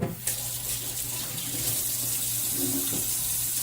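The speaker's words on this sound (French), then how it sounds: "Tiens, faut que je parte l'eau." A tap runs steadily while hands are washed under it, a continuous close hiss of water that begins abruptly and carries on alone.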